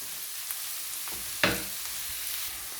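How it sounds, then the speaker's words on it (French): Cabbage and mixed vegetables stirred in a frying pan, a quiet steady sizzle with a few soft scraping strokes and one sharper clink near the middle. "Le chou, et je mélange tout."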